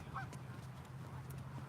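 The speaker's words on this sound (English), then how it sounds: "Geese sounds, water sounds." A goose gives a brief honk early on over a steady low hum and background noise, with another faint call near the end.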